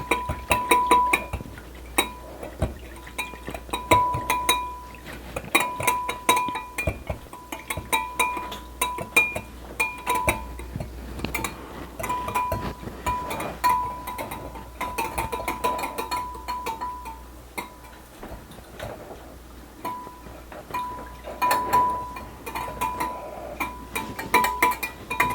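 Gummy bear sugar being mixed inside a glass container, giving steady rapid clinks and ticks of sugar grains and glass knocking together, close and continuous with brief pauses.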